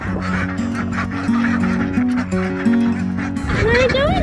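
A blind duck honking and quacking repeatedly in rhythmic, nasal calls close by, with a higher squeaky call breaking in near the end.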